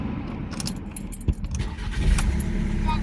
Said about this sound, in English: In fact, that engine sounds quite tidy.